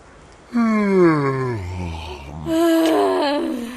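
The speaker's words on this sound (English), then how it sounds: "Yawn." A voice voices a long drawn-out yawn for the Dr. Seuss Sleep Book app, sliding downward in pitch, then begins a second rising yawn after a short pause, close and clear.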